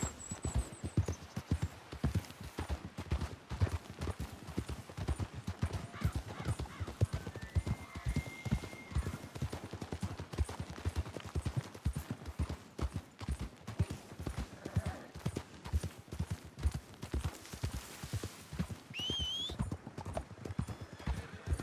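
A horse ridden in Red Dead Redemption 2 trots with dense, regular hoof clip-clops throughout, fairly close and loud, with a short whinny-like cry near the end and no talk.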